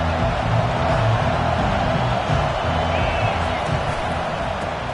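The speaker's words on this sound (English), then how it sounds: "The roar of the crowd trying to fuel this defense to keep them pinned in their own end." Dense, steady crowd roar fills a college football stadium during a Utah versus Texas game, loud and continuous throughout, with a commentator talking over it.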